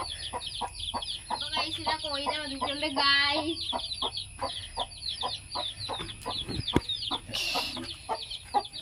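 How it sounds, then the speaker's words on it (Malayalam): Chicks clucking steadily in a busy chorus, with a brief harsher squawk partway through and a high steady whine in the background. "ഇതാ നമ്മുടെ കോഴികൾ"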